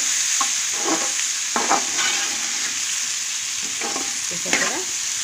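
Eggplant pieces for a mutton curry stirred and fried in a pan, with a steady sizzle and repeated scraping stir strokes close by.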